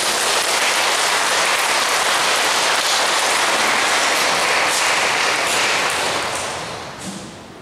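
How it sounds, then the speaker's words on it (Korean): Audience applause at a church vocations benefit evening in a Catholic cathedral, a dense, loud wash of clapping that continues steadily and then fades out toward the end. "여러분들 박수 좀 부탁드립니다."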